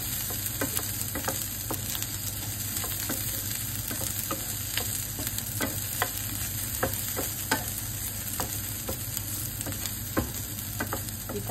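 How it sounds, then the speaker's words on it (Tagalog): Corn kernels stir-fry in a pan, a continuous close sizzle broken by frequent light scraping and clicking of the spatula as they are stirred until slightly browned. "Isangag lang natin hanggang maging brown siya konti."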